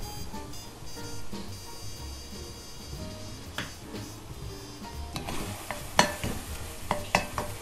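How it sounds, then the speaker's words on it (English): Sweet potato empanada filling is stirred in a hot pan, a soft continuous sizzle with scraping strokes that grow busier toward the end, adding a few sharp utensil taps against the pan. "Mix it in here to warm up."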